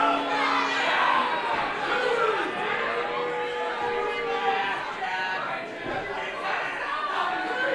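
A wrestling crowd at a live title match, with a loud continuous roar of shouting and chatter from many people, steady throughout and close.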